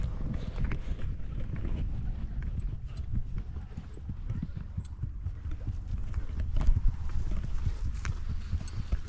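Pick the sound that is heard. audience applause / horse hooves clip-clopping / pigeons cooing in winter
horse hooves clip-clopping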